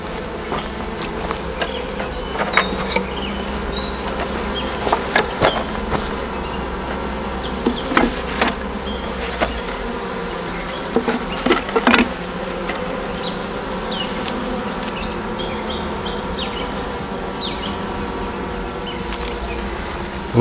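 Honey bees buzzing steadily around an open hive during brood box work, a constant close hum with occasional clicks and knocks of hive equipment.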